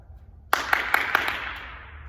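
Five quick hand claps from a juggler between a throw and the catch, sharp and evenly spaced, close and fairly loud, with a faint whoosh trailing off afterward.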